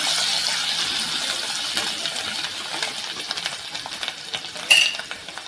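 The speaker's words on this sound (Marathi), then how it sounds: "थोडंसं परतून घेऊया." Turmeric, garam masala, asafoetida and coriander are sautéed in a pan, giving a steady hot sizzle with light spoon scrapes and a sharp metallic clink near the end, and nobody speaks.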